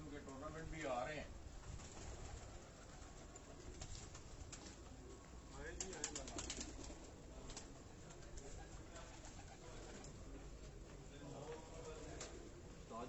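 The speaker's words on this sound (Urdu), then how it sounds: "اسی طرح بڑے کبوتر بھی ہیں آگے" Pigeons kept by a breeder in Gujranwala coo in soft repeated calls under ongoing conversation, with faint wing movement and background noise throughout.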